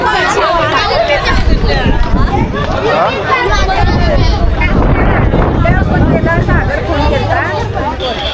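Pilgrims crowd the Jyotiba temple near Kolhapur, a close, loud mass of overlapping chatter and calls with wind buffeting the microphone throughout.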